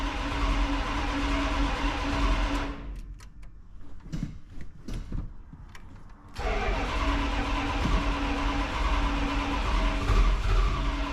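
A 1984 Dodge W150 truck engine cranks and catches, then settles into a steady, loud running idle that rumbles on close by, with no talk over it.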